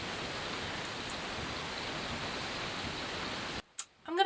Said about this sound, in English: It's raining. Can you guys hear that?